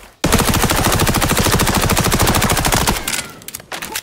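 An MP5 submachine gun fires in the video game XDefiant, a single long rapid automatic burst close and loud for nearly three seconds, followed by a few lighter mechanical clicks of the weapon.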